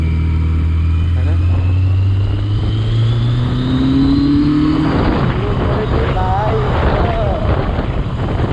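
A Yamaha XJ650 motorcycle fitted with an M4 exhaust revs up close, its engine note climbing in a smooth rising sweep before settling into a rough, burbling idle, with a voice speaking briefly over it.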